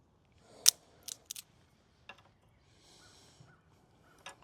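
Scissors snip material for a bee swarm trap in a few short, sharp cuts scattered over several seconds, quiet and close with faint rustling between them.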